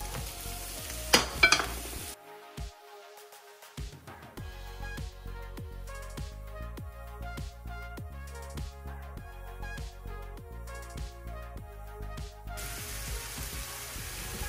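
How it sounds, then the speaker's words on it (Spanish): Onion sizzles in hot oil in a pan for Mexican chicken tinga, a continuous crackling fry that starts after a brief pause and runs steadily with no speech. "Bueno, ya está nuestro aceite, vamos a agregar la cebolla."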